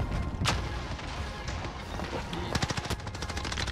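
Rapid automatic gunfire in the Warzone video game, with a new Uzi among the weapons: dense bursts of close, loud shots with quick repeated cracks building toward the end, and a player speaking faintly underneath.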